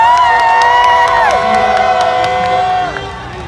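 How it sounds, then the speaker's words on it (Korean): A loud crowd at an outdoor political rally cheers and shouts, with high sustained whoops and yells from many people close by, fading slightly toward the end. "큰 박수로 맞아주십시오"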